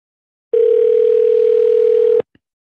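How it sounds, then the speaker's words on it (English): A steady telephone dial tone hums for under two seconds as a call is placed, loud and close with one pure sustained pitch, then cuts off abruptly and is followed by a faint click. "Dialing now."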